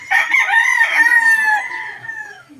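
A Biboy line gamefowl rooster lets out a single full crow, close and clear, rising then trailing off into a fading drawn-out tail.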